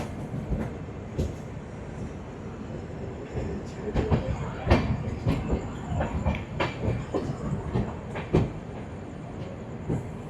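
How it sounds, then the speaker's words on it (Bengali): A passenger train pulls out of New Jalpaiguri (NJP) station on the Darjeeling to Kolkata run, its wheels knocking over rail joints in an irregular clatter. Sharp clanks and rumbling carry steadily throughout, with no speech. "তো ছেড়ে দিল আমাদের ট্রেন এনজেপি থেকে।"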